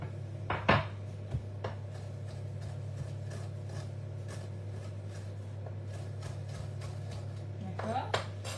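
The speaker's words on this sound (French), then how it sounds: "je vais venir prendre mon couteau dans le centre et je vais venir couper comme ceci" A large knife slices through ricotta, spinach and pancetta stuffed conchiglioni pasta shells on a board, giving a few sharp taps against the board over a steady background hum.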